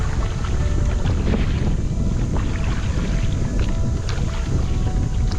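Strong wind buffets the microphone continuously, a loud roaring rush with splashing water underneath, steady for the whole stretch, on a fast boat island hopping around El Nido, Palawan.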